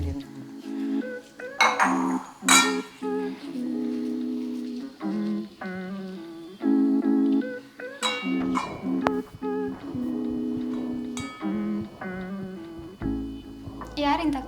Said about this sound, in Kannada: ತುಪ್ಪದಲ್ಲಿ ಕಡಿಮೆ ಟೇಸ್ಟ್ ಬರಲಿಕ್ಕೆ ಸ್ವಲ್ಪ ತುಪ್ಪ ಹಾಕಿ ಮಿಕ್ಸ್ ಮಾಡಿ.